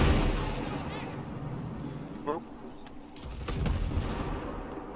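Gunfire in the video game Tom Clancy's Ghost Recon Breakpoint: scattered shots and booming blasts, some distant, in a dense, noisy firefight mix with players talking over it.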